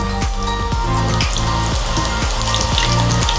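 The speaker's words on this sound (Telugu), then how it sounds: "నేను ఇక్కడ వేగుతున్నాను" Sampangi sweets fry in hot oil with a steady, loud sizzle and bubbling, punctuated by regular sharp clinks of a metal utensil against the pan roughly every half second.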